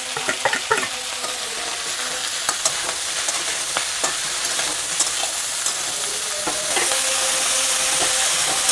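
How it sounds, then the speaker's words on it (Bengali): Potatoes and beans frying in a pan with turmeric and salt, under a steady, loud sizzle with repeated spatula scrapes and taps while being stirred, the hiss swelling toward the end, with no talking. "আলুগুলোকে বেশ ভালো করে এর সঙ্গে আমি মিশিয়ে নেব, আর দিয়ে দেব হলুদ আর নুন।"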